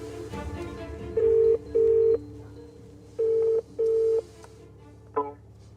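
Touch-tone keypad beeps as a mobile phone number is dialed at an entrance gate: several separate steady tones in an uneven rhythm, clear and close over a faint background hum.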